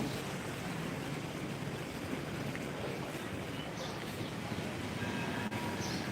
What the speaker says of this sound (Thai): รถไฟกำลังจะเข้ามาแล้วเนี่ย